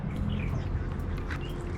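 Ducks quacking at a park in Taichung, Taiwan, heard as steady, moderately loud outdoor calls over a dense background of ambient noise, with no talking.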